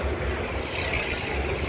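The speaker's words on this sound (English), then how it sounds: "we got the wind back again" Steady, rumbling wind buffeting a microphone outdoors, loud and continuous with low-frequency roar and no voice.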